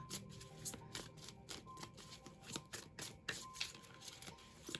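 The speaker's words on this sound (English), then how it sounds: "I'm gonna shuffle my chakra wisdom oracle deck to get some additional messages for these cards" A chakra wisdom oracle card deck being shuffled by hand, with a quick series of soft riffling flutters and taps in an uneven rhythm, close but quiet.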